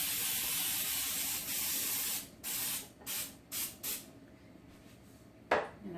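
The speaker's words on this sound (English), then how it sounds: "I like to use Baker's Joy to spray my pans with." Baker's Joy baking spray hisses from an aerosol can onto a bread pan: one long continuous spray, then several short bursts in quick succession, close and clear with a small clunk near the end.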